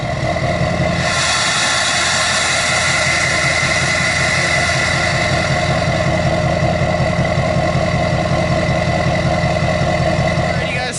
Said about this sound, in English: so now the LML has been idling for a little bit now